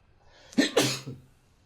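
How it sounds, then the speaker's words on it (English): A single sharp sneeze bursts out up close, a quick intake followed by a loud explosive release and a short trailing exhale. "I'm about to sneeze"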